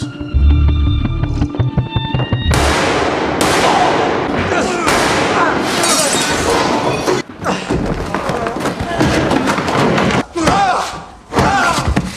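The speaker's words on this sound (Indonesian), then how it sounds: "Grace langsung menembak salah satu anggota IRA itu." A gunshot rings out in a tense Peaky Blinders confrontation with an IRA member, a sharp blast amid loud dramatic scoring and dense action noise that continues for several seconds.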